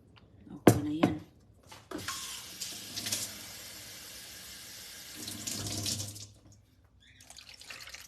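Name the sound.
running tap water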